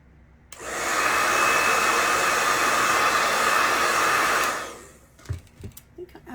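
A hair dryer blows on fresh paint on a rustic wooden sled, a steady loud roar running about four seconds before cutting off, followed by a few faint knocks and handling sounds.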